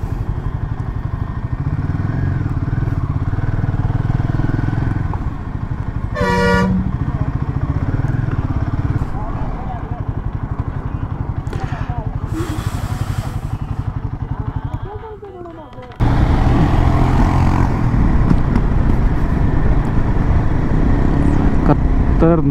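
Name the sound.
busy road traffic with motorcycles and honking horns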